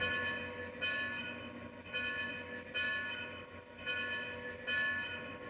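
A steam train's bell is tested, ringing in a steady repeating pattern of bright, sustained metallic tones, fairly faint, with no talk over it.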